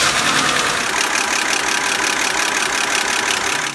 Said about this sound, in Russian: Сейчас я заведу, и мы услышим вот отсюда из этой области характерный звук.